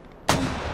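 Mortar fire in a video game, a single loud, sudden boom after a brief quiet moment, followed by a sustained rumbling roar that lingers to the end.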